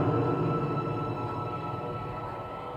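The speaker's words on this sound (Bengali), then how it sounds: "ট্রেন আবার চলতে শুরু করলো কিন্তু এবার ট্রেনের শব্দ বদলে গেছে" A moving train in a horror audio drama makes a steady low rumble that fades slightly, continuous and fairly quiet, with no voices.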